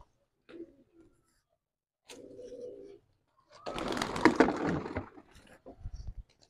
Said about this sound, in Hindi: इधर कौन सा कबूतर है जो भी गुटर गु कर रहे हैं